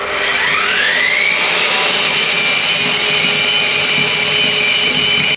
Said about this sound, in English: It's 40 seconds, give or take, for this drill bit to get through this brickwork.